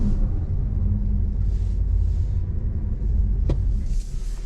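2024 Toyota Prius AWD hybrid accelerating at full throttle in B mode, heard from inside as a loud steady low rumble of engine and road noise that holds evenly throughout, with a brief click near the end.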